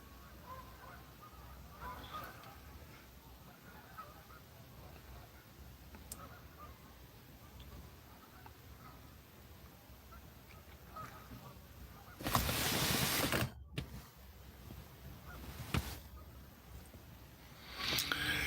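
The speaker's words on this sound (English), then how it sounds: "Look at these idiot geese." Geese honk on and off at a distance during an outing at sunset, with scattered faint calls over a quiet outdoor background and a couple of louder gusty bursts toward the end.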